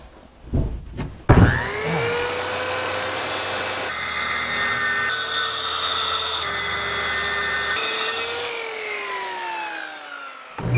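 A power saw spins up and rips through 3/4 inch maple veneer plywood on a workbench, a loud continuous whine and grinding cut lasting several seconds before winding down, with knocks of handling beforehand.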